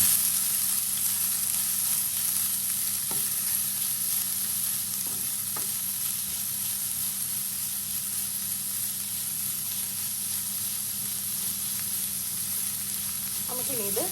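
Onion tossed into hot oil with mustard seeds and dried red chilli for a Kerala-style ulli thoran, giving a steady, even sizzle throughout with a few soft stirring clinks.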